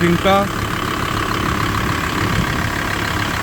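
A Volkswagen LT van's engine idles with a steady, even mid-low drone that runs unbroken throughout. A brief voice-like sound comes at the very start.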